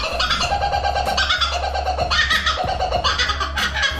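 A laughing kookaburra gives a loud, continuous cackling call in repeated rising bursts, the raucous laughter-like phrases overlapping with no talk over them.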